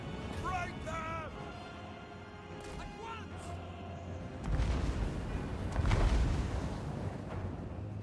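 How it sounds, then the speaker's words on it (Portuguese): A cow-hurling catapult fires in Total War: Warhammer III during a Bretonnia campaign. Heavy rumbling booms swell midway and late, over busy battle noise, with a voice talking early on. "É a catapa que arremessa a vaca quando... No maior estilo francês."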